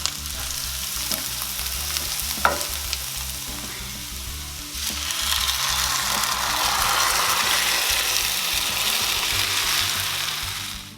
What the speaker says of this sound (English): Now that our onions are nice and brown, I'm going to go ahead and add the tomatoes.